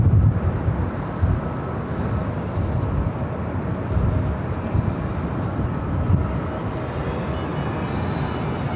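Airbus A320neo airliner at LAX, a broad low jet rumble roaring steadily nearby and loud throughout, with no voices.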